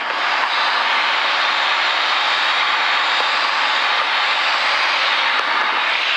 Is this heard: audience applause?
no